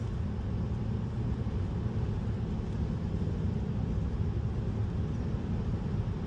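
Steady low road rumble of a car cruising along a flat desert road through Death Valley, California, toward Zabriskie Point, a constant broadband drone with no breaks and no talk.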